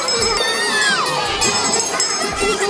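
At a Mahashivratri fair at a Shiv temple, a large, dense crowd fills the air with a constant, loud roar of overlapping voices, children's shouts and occasional higher calls, close and unbroken throughout.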